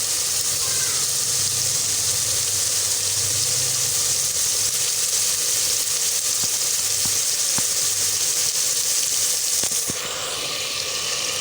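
Okra (bhindi) fries in oil for a bhindi masala, giving a steady, continuous hiss and sizzle throughout with a few faint clicks and no talk.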